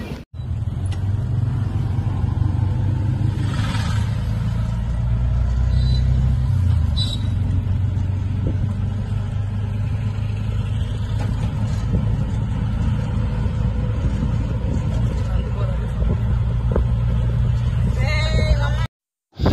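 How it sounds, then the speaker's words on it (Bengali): An Indian express train from Howrah to Tirupati rolls into Kolaghat station, a steady heavy rumble heard from inside the coach with a voice talking over it until it cuts off at the end. "এখন আমাদের ট্রেন কোলাঘাট স্টেশনে এই যে ঢুকলো"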